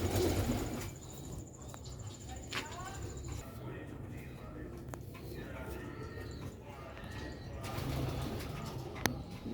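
Sialkoti pigeons coo softly and repeatedly nearby in a rooftop loft, their low rolling calls layered under someone talking, with other birds calling now and then.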